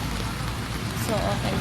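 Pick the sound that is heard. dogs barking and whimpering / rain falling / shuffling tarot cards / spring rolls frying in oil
rain falling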